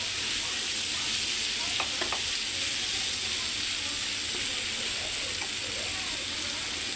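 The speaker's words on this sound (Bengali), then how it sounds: "আমি এখানে গাজর দিয়ে দিচ্ছি।" Carrots frying in a hot pan, a loud continuous sizzle filling the whole stretch, with a few faint scrapes of stirring underneath.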